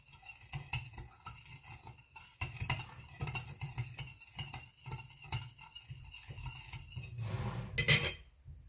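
A spoon mixing a sugar mixture in a bowl, giving a steady rhythmic scraping and stirring, close and fairly quiet, with a brief louder clatter near the end.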